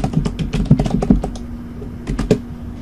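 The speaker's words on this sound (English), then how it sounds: "I would just type in my name." A computer keyboard is typed on to enter names into a LaTeX document, bursts of close, clicky keystrokes with a short pause before a final few taps, and no voices.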